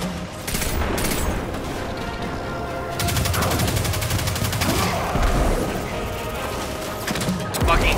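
Gunfire in the Destiny 2 video game, sniper shots among a busy battle, with repeated loud cracks and bursts over a steady clatter of game sound, and a voice occasionally talking over it.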